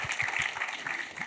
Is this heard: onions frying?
no